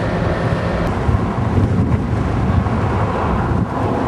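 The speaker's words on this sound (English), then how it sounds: "As you can probably tell, the winds are really gusty." Gusty wind buffets the microphone on a bridge, a loud continuous low roar that swells and dips throughout without any talk.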